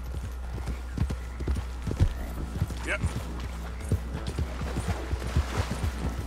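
Horse hooves clip-clop in Red Dead Redemption 2, a steady rhythmic gait of sharp close hoofbeats over a low rumble, with a brief whinny midway and a short spoken word.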